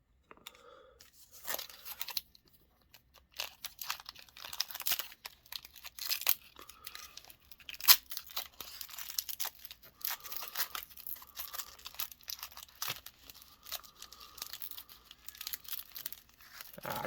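A Pokémon card pack is torn open and its foil wrapper crinkled, giving a long run of close, irregular rustling, crackling and ripping bursts with no one talking.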